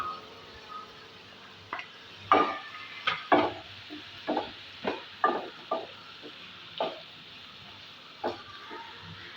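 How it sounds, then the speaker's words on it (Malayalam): Tomatoes being stirred into a prawn masala in a pan: a steady series of short scraping strokes from a spoon against the pan, repeated roughly every second over a low sizzle. "ഇട്ട് കൊടുത്ത് നല്ലോണം ഒന്ന് എല്ലാം കൂടി ഒന്ന് മിക്സ് ചെയ്യാം"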